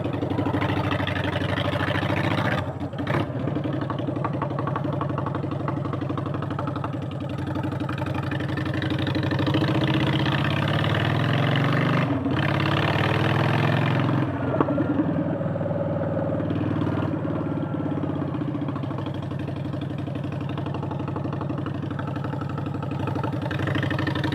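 A Honda Shadow Phantom motorcycle with straight pipes and no baffles idles loudly and steadily up close, a deep rumbling lope with a few brief blips and shifts over twenty-odd seconds.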